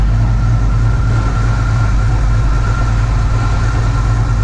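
A Dodge truck's electric radiator fan runs alongside the idling engine, a loud, constant whooshing drone over a steady low rumble with no pauses.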